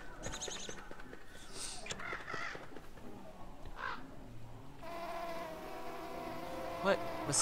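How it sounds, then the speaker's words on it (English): Mosquitoes in the survival video game Don't Starve whine and buzz, faint at first and then a steadier droning hum in the latter half, with a few soft game effects around it. "Mosquitoes, ow!"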